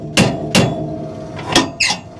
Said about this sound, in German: Ich muss den hier weiter runter kloppen.